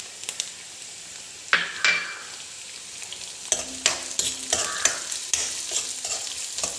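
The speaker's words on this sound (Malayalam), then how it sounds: "ഇതെല്ലാം ഒന്ന് ശരിക്കും വഴറ്റിയെടുക്കണം" Shallots and garlic sauté in a pan for Kerala-style dal curry, a low continuous sizzle with frequent clattering spoon scrapes as they are stirred, close by and without talk.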